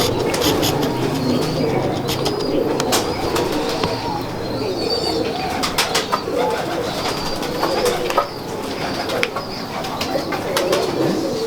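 Pigeons of a single breed coo in a loft in Lahore, soft repeated throaty coos mixed with wing flaps and chirps, nearby and fairly loud, with someone talking at times.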